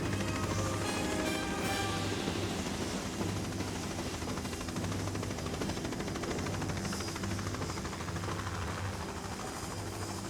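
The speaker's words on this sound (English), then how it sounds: "I hear that chopper buzzing around" A helicopter from the PS2 game Tomb Raider: The Angel of Darkness drones steadily overhead, a continuous rotor buzz with engine hum that stays loud and even throughout, with no talking over it.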